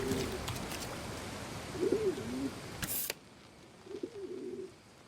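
Cooing bird calls, meant as seagulls, in the video game Submerged: Hidden Depths: two short warbling calls at moderate level over a steady ambient hiss, with a brief click between them.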